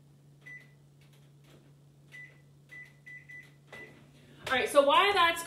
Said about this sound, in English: let me put this in the microwave